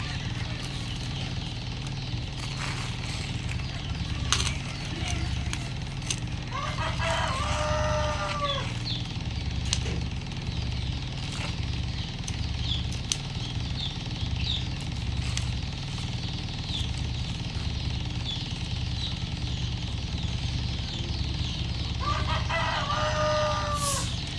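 Village desi chickens cluck intermittently and a rooster crows twice while a hen is set on eggs, over a constant low mechanical drone like a distant engine.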